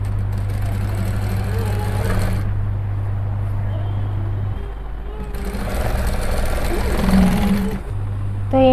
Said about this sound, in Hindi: इसमें मैं डबल सिलाई मार रही हूँ